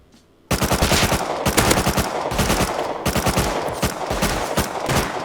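Rapid automatic gunfire from the survival video game Rust during an online raid defence, loud bursts of close shots with brief gaps, starting abruptly after a quiet half second and continuing dense to the end.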